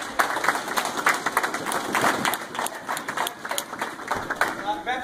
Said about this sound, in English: Hey, give them a clap, you guys.